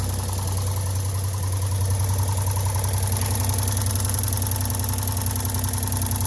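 A six-cylinder car engine idling steadily up close, with a fast, even ticking running through the low rumble.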